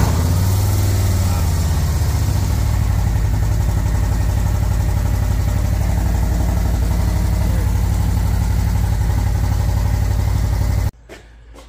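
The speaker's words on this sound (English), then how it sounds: "let's start her up and get her into neutral" Harley-Davidson CVO motorcycle engine idling steadily at close range, a loud low rumble with fast even pulses that runs unbroken for about eleven seconds, then cuts out abruptly to quiet room sound.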